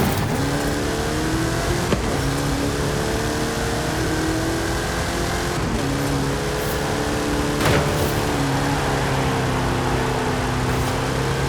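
A car engine races at high, steady revs in Forza Horizon 5 during a Hot Wheels loop track event, a loud continuous drone with shifting pitch and occasional clicks, no voices.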